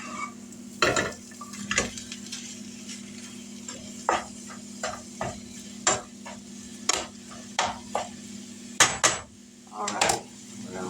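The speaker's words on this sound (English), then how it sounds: "We're going to cook this till the hamburger meat is no longer pink and the onions are tender." Hamburger meat and onions cook in a pan for a Tex Mex casserole, with a low steady sizzle broken by repeated scraping and stirring knocks of a utensil against the pan.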